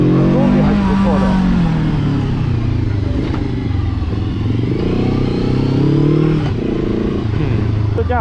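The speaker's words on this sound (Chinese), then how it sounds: "我这个发动机的那个排气的声音是做的比较" A Hanway YP500 motorcycle's exhaust gives a strong, deep engine note, close and loud. Its pitch climbs and falls as the throttle is worked, with a voice talking over it.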